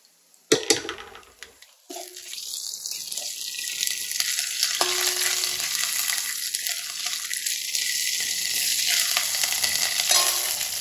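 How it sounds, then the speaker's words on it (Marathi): Almonds roast in ghee in a pan, opening with a sharp hiss as they hit the hot fat, then settling into a loud, steady, close sizzle that continues without talk. "आता मी ह्याच्यामध्ये थोडंसं तूप टाकून बदाम भाजून घेते"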